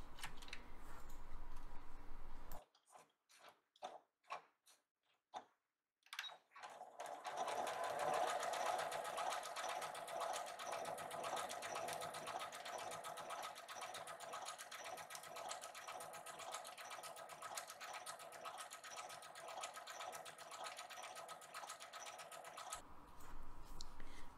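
A sewing machine hums and rattles in a fast steady overcast stitch with an overcast presser foot for a long run, preceded by a few short clicks and bursts, close by.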